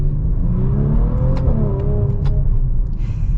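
A 2022 Maserati Levante Modena SUV engine revs up, a deep rumbling growl that rises in pitch and then settles, with a couple of sharp crackles near the end, close and loud.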